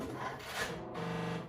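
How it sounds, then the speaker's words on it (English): A sewing machine, used for sewing a swimsuit, powers up with a faint, steady motor whir and a soft rasping texture, heard alone. "this is the sound of my machine turning on"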